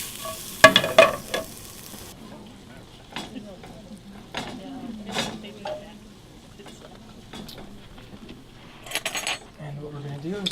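Shrimp sear in a pan deglazed with vegetable stock, close scraping and stirring knocks over a low sizzle, with brief metallic clinks of utensils and a few faint voices.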